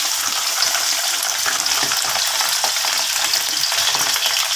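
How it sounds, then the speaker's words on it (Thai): Sun-dried beef frying in very hot, bubbling oil, a steady loud crackling sizzle that holds continuously with no talk. "ร้อนจัดแล้วฟองขึ้นเต็มแล้วจะใช้ใส่เนื้อไปเลย"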